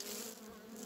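Honeybees from a very large cluster hum steadily at a hive box, a dense continuous buzz held close and even throughout.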